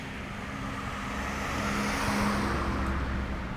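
Large car passing on a Tokyo street under cloudy skies, a steady engine and tyre rumble in moderate-level traffic noise, swelling slightly mid-way and fading without any talk.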